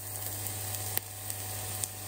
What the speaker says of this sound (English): The hash brown is sizzling.